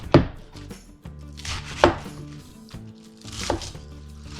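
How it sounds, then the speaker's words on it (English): Knife chopping iceberg lettuce into bite-size pieces on a cutting board for an Asian-inspired chef's salad: three sharp, loud chops spaced about a second and a half apart, with quieter crunchy cuts in between, and no talking. "I'm going to cut it into smaller pieces, bite size"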